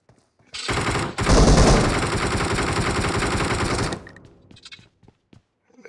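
Video game gunfire, a dense burst of rapid automatic shots lasting about three seconds, loud and close, with a few scattered clicks and short effects afterward.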